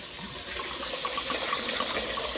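Water poured into a glass to make a half-and-half Hennessy and water mix for cooking shrimp, a steady close splashing gush running without a break, with no talk over it.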